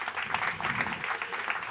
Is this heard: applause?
yes